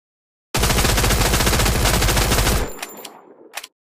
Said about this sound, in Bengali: যখন তোমরা গান দিয়ে গুলি করবে তখন তোমাদের গানের শব্দটা কেমন শোনা যাবে